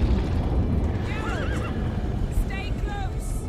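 A horse in The Witcher 3 video game gives a wavering whinny, then more short neighs follow over steady hoofbeats and a dense background of game sound.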